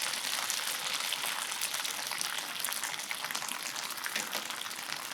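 Soy sauce hitting glazed green beans in a hot pan, a steady bright sizzle and bubbling hiss that stays even throughout, close and fairly loud, with no talk.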